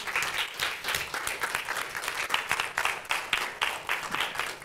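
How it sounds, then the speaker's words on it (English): An audience applauds after a lecture, a moderately loud, even wash of many hands clapping that carries on steadily without speech. "Let's give him another round of applause, please."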